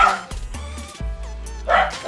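Dogs bark near Seda Nuvali hotel in sharp, repeated bursts, loudest at the start and again near the end, over a steady low hum.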